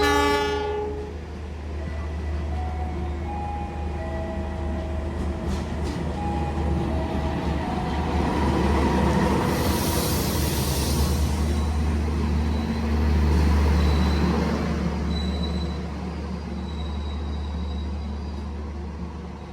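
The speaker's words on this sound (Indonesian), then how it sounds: "Kereta api Lodaya sudah masuk di stasiun Cipendei." The Lodaya passenger train pulls into Cipendey station in Indonesia. It opens with a loud, sustained horn blast, then the wheels rumble and clatter steadily close by as the cars roll in, with a brief squeal partway through and no talk.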